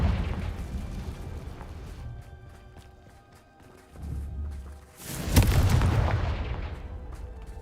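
A Confringo fire spell explodes in the game Hogwarts Legacy, a deep booming burst with a rushing roar that swells loudly then fades, after an earlier lower rumble amid game ambience.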